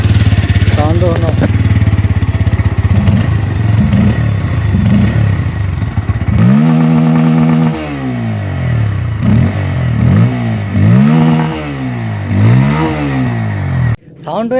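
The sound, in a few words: motorcycle engine idling and revving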